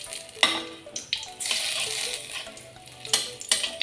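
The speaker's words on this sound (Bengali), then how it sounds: "দুটোকে ভালো করে ফ্রাই করে নেব।" Dry red chili and bay leaf frying in hot mustard oil in a wok for a sour lentil dal, a steady close crackling sizzle with sharper pops and spoon scrapes flaring up now and then.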